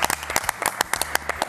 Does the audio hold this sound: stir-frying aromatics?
no